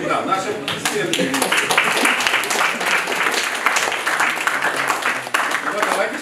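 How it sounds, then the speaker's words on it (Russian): An audience at a live talk event breaks into sustained applause, a thick even roar of many hands clapping throughout, with speech blending in over parts of it. "наши аплодисменты"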